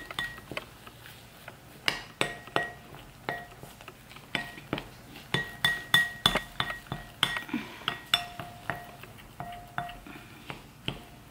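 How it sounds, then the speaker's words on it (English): A spoon clinks and scrapes against a bowl while mixing food-coloured edible play dough, a series of sharp irregular taps that quicken toward the middle, close and fairly quiet with no talking. "And then you just mix it around with a spoon."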